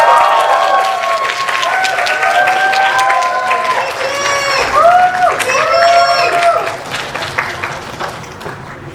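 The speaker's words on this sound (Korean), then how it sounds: "큰 박수로 맞이해주세요." A large crowd claps and cheers to welcome actors and a director onto the stage at a film screening event, with loud sustained applause, whoops and a few shouts rising and then tapering toward the end.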